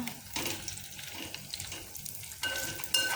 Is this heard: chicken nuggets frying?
yes